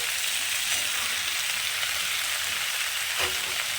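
Eggplant fries in oil with a dense, even sizzle close by and a faint scrape of stirring near the end, with no voices.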